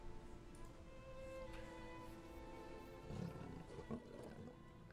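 A tiger roars in the role-playing video game Arcanum, a rough, moderately loud growl rising over steady in-game ambient tones, with a couple of louder bursts toward the end.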